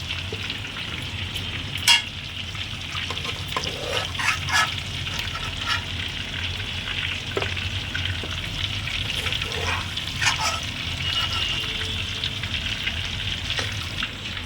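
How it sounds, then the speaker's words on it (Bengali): Prawns fry briefly in hot oil in a home kitchen for a malai curry, giving a dense, continuous sizzle close by, with occasional clinks and stirring sounds and no talk. "খুব হালকায় কয়েক সেকেন্ডের জন্য ভাজতে হয় বেশি ভাজলে চিংড়ি মাছ শক্ত হয়ে যায়"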